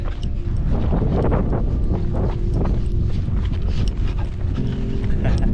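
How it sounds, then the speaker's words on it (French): A light wind blows across a mountain trail in the Verbier St-Bernard area, buffeting the microphone with steady low rumbling while someone breathes and moves nearby. "Il y a un petit vent"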